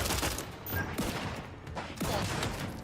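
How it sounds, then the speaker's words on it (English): Shotgun fire in the video game The Outer Worlds 2, a series of sharp booming blasts at roughly one-second intervals amid a noisy combat backdrop, fairly faint. "Oh, somebody got a shotgun."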